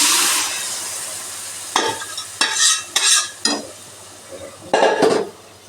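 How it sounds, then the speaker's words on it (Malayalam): Cooked chickpeas tipped into a hot frying pan and stirred, a steady sizzle under several sharp scraping strokes of a spoon against the pan, close and fairly loud. "വേവിച്ച് വെച്ച കടല ഇട്ട് കൊടുക്കുവാണേ."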